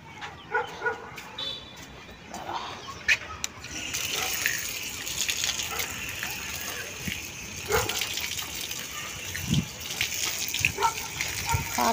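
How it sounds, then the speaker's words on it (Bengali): Running water gushes steadily over feet being washed, starting a few seconds in and continuing close by, while a dog barks now and then in the background. "পাটা ধুয়ে নিলাম, দেখো।"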